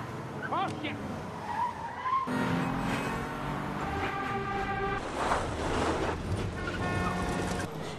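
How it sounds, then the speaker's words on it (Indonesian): Film car chase in narrow city streets, with tires squealing and skidding over a continuous roaring engine, loud and busy throughout. "Ia langsung mengejar Willie menggunakan mobil."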